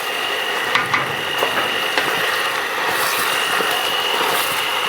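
Beef goulash sizzling in a pan as it is stirred, a steady broad hiss with occasional scraping clicks of the utensil, close and even throughout.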